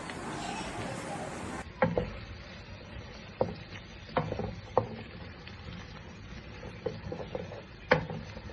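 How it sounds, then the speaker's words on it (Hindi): Onions frying in oil in a kadai sizzle steadily, with a spoon clinking and scraping against the pan now and then. "कढ़ाई में ऑयल शामिल किया है और 4 अदद प्याज़ों को ऑयल में डाल रहा हूँ।"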